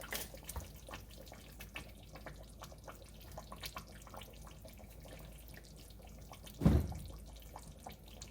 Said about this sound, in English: I add a little bit of water also to kind of up the water level a little bit